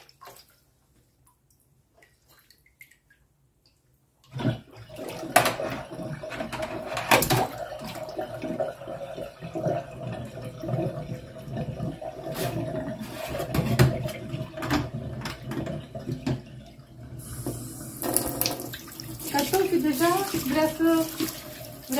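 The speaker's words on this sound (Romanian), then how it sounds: "Ce rece e apa. Trebuie să pun un pic și apă călduță să le amestec așa să nu fie numai rece." Water runs from a kitchen tap into a sink, a continuous splashing flow that starts after a few quiet seconds and carries on steadily, with some clatter and a voice now and then.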